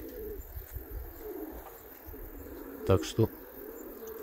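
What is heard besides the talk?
pigeons cooing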